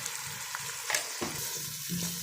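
Spices and mustard powder frying in a pan for an aloo chicken shorba, a soft steady sizzle with a few brief stirring scrapes, close and moderately quiet.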